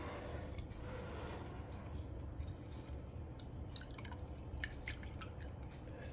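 Coconut milk liquid is poured out and drips steadily while homemade coconut oil is being made from grated coconut pulp, with several brief splashy drips over a continuous low background.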